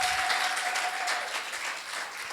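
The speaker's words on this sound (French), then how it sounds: "Can we clap for Jesus?" A church congregation claps for Jesus during a bilingual French-English Father's Day service, a steady wash of applause holding throughout with a brief faint tone early on.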